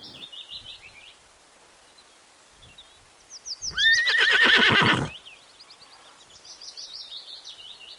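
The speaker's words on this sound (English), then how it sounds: "H. H for horse." A horse gives one loud, close neigh lasting about a second, with light bird chirping before and after it.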